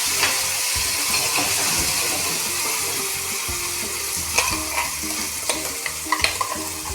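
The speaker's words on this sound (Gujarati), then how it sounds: "ચટણીનો આપણે સરસ એવો વઘાર કરીશું." Chutney tempering in a hot pan sizzles loudly and steadily, with a few clicks and scrapes near the end.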